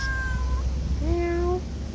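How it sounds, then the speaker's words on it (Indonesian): A stray cat near a house gives two clear meows in quick succession, the second longer and rising, close by over a low background hum. "Ini ada kucing liar guys"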